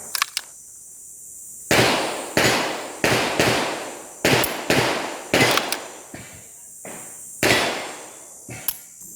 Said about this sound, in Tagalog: so i-try natin yung kanyang double tap.